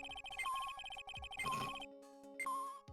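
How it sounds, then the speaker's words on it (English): Metal detector signal from the video game Ace Attorney: Trials and Tribulations, a rapid series of electronic beeps with high tonal chirps. It stutters on and off in bursts, clear and synthetic, with no voices. "That's the sound of the metal detector signal doing something"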